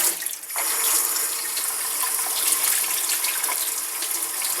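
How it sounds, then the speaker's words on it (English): Kitchen tap running at fairly high pressure, a steady close hiss of water streaming into a sink, loud and continuous after a brief quieter start. "A little more water pressure always helps."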